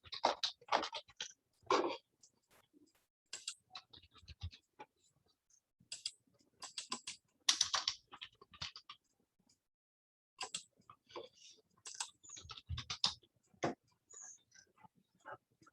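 Keys tapped on a computer keyboard in uneven bursts of sharp clicks, close and fairly clear against silence, with pauses between flurries.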